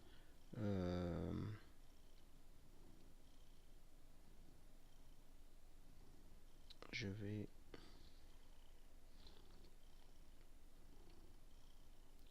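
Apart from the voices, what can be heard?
cat purring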